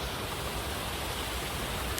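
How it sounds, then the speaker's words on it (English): Steady broadband rush of a small waterfall at the Loch in a New York City park, continuous water noise close by with no voices. "my favorite part of the park is this little waterfall"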